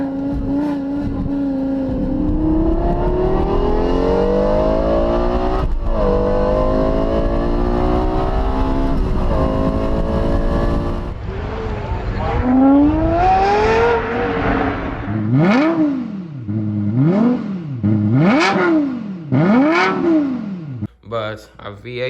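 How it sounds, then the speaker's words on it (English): A 2021 Toyota Tundra TRD Pro V8 engine revving close and loud, rising through repeated climbing pulls, then several sharp blips that rise and fall near the end. "the sound of the V8, whoo, that's the best sound that you can hear, for real."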